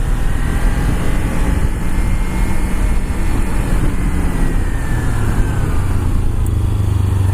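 Motorcycle riding on the road, a steady loud engine drone mixed with heavy wind rush, continuous and close without speech.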